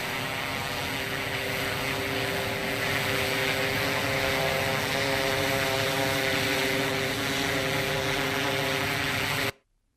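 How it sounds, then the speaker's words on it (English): A drone fitted with a quieter Delson Aeronautics propeller flies nearby, giving off a loud, steady whirring buzz with a constant pitch that holds for nearly ten seconds and then cuts off abruptly. "Delson Aeronautics is introducing a quieter propeller, and they released a video recently giving you a chance to hear the difference."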